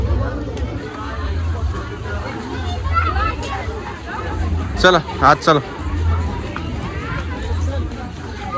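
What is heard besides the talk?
crowd chatter at a village fair (yatra)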